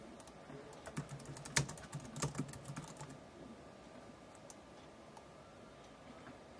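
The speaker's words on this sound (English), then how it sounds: "I don't know if you can hear my typing" Typing on a physical keyboard connected to a tablet running an office editor app, heard as a quiet run of soft key clicks with a few sharper taps, clustered in the first half and then thinning out into low room hiss.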